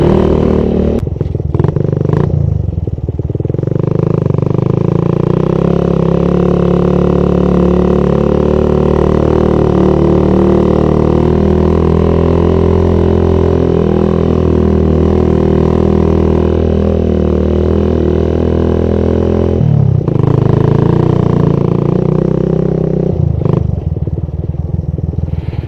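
A Suzuki Satria FU motorcycle engine running steadily at idle right after carburetor repair, loud and close with a smooth, even drone and a few brief clatters near the start and end.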